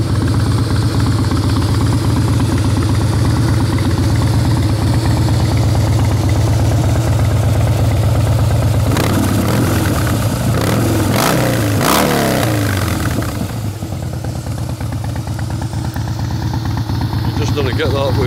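Harley-Davidson FXS Softail Blackline motorcycle engine idling with a steady, loud low rumble, then revved in several sharp blips near the middle before settling back to a throbbing idle; no talk.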